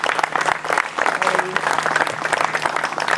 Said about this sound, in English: Big round of applause for our volunteers today.